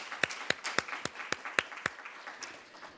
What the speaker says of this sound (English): join me in applauding the entire coterie of this year's cohorts of student fellows